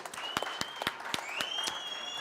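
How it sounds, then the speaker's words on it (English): Guests at a charity cooking dinner applaud briefly, with a few sharp, distinct claps standing out over softer clapping. A faint tone carries in the background. "give yourselves a round of applause"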